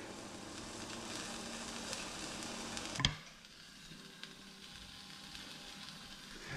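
Marrow and sausage cooking in a pot for a Maltese stuffed marrow dish give a steady sizzling, bubbling hiss that drops noticeably quieter after a brief knock partway through.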